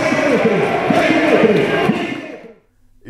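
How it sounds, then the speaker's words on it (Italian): Finish-line crowd cheering and shouting for cyclist Gorka Izagirre at the Trittico Lombardo race, a loud mass of voices that fades out after about two and a half seconds. "Applausi per lui."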